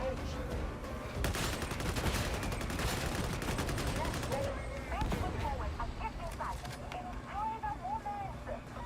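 Automatic gun fire in a video game, rapid bursts of shots crackling densely through the first half and then thinning to scattered shots. Someone talks over it.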